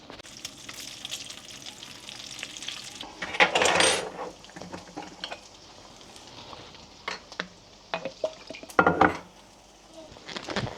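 Bacon sizzling and frying in a pan in a home kitchen, a steady crackle with louder bursts of spattering and occasional clinks of utensils against the pan.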